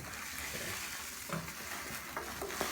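Ingredients are stirred into water in a Braumeister 10L home brewing system, giving a faint continuous watery swish with a few small knocks and splashes, quiet and close.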